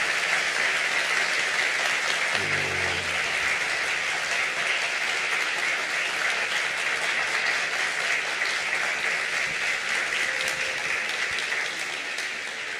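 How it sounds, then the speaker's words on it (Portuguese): Auditorium crowd at a museum science talk in Brazil gives sustained, dense applause that holds evenly loud throughout, with a brief low murmur early on before tapering slightly at the end. "Palmas para eles, por favor."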